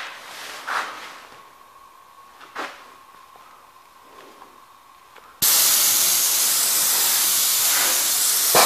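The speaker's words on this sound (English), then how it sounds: "This is what you see when I'm spraying." Paint spray gun applying primer over a crane, starting with quiet background and a few brief knocks before a loud, continuous hissing spray abruptly takes over and runs steadily to the end.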